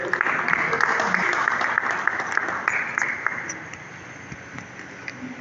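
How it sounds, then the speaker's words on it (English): Audience at a workshop's formal closing event applauds in a lively burst of clapping that gradually thins out and fades to scattered claps. "Please, another applause for them."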